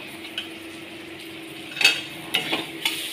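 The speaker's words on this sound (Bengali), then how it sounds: "এটাকে এভাবে কষবো।" Curry ingredients stir-fried in a pan for Bengali home cooking, with a soft steady sizzle broken by a few clinks and scrapes of a spoon against the metal pan, close and without talk.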